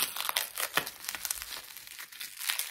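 Crinkly plastic packaging rustles and crackles up close as it is pulled and torn open, a continuous busy crunching.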